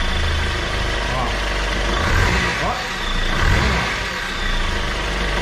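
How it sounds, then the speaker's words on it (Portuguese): Honda Civic engine idling steadily with a low mechanical hum and slight surges, while someone talks over it nearby. "liga o carro aí"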